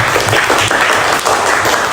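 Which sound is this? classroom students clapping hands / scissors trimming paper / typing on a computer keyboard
classroom students clapping hands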